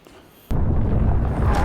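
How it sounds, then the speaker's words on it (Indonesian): A monster and part of a train car blow up in a Resident Evil: Welcome to Raccoon City film scene: after a quiet half second, a sudden loud broadband blast erupts and rumbles on heavily to the end. "Monster itu meledak bersama sebagian kereta."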